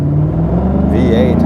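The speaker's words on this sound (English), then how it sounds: "this V8 also sounds very lovely" A Lexus RC F V8 engine rumbles deep and loud through its exhaust, rising slightly in a brief rev toward the end, close by and alone without talk.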